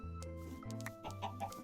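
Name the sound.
chickens clucking, from a Minecraft-style video game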